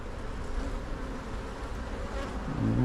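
Honey bees buzz steadily around an old hive frame holding honey on one side and brood on the other, a dense continuous hum close by with no talking.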